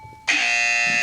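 A quiz buzzer pressed as an answer on a podcast: after a faint ringing tail, a loud, harsh, steady electronic buzz starts abruptly and holds for close to a second, close by and unaccompanied.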